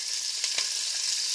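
Curry leaves frying in a pan with mustard seeds, cumin, garlic and onions make a dense, even hiss of sizzling, with a couple of faint taps from stirring and no speech.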